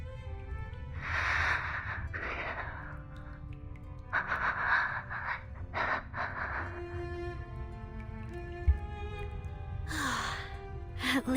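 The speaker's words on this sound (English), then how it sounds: "At least she's still breathing." A character breathing in Reverse: 1999, soft close breaths and sighs in irregular bursts, some gasping or wheezy, with quiet gaps between them over a low background hum.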